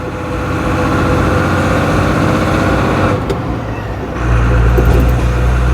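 A Ford Cargo 0811 truck engine labours up a hill, a loud close diesel drone with rumbling low pulses, easing briefly before the engine note deepens and strengthens again.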